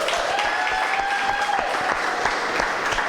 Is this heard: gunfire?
no